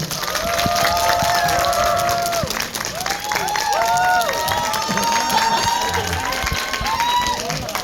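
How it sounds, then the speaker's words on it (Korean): A cinema crowd at a Lotte Cinema World Tower premiere claps and cheers to welcome the film's actors, a dense, loud wash of applause with shouts rising above it. "큰 박수 주시면 바로 입장하겠습니다. 네, 박수 부탁드리겠습니다."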